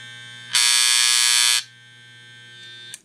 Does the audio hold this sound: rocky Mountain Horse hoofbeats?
no